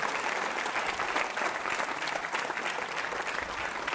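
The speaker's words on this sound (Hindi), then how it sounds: "तालियां जोरों से बजाइए इनके लिए" Steady, dense applause from an audience at a college quiz show held for Ganesh Chaturthi, continuing evenly throughout with no break.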